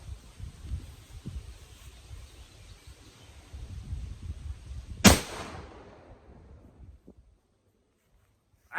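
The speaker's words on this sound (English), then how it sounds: "That was a wrist rocket." A wrist rocket slingshot fires once with a single sharp, loud snap, followed by a short ringing decay and then near silence, over a faint outdoor ambience of rustling and light background noise.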